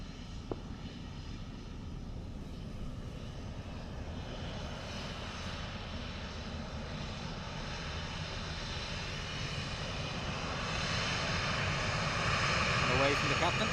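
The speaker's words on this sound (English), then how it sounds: "this is Tui in from Barcelona" A TUI airliner arriving from Barcelona at Dublin Airport, its engine roar steady and broad, swelling gradually louder toward the end as it nears, with a voice speaking over it.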